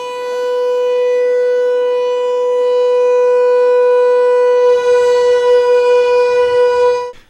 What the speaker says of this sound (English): We're getting ready for Vermont Yankees' annual emergency siren test.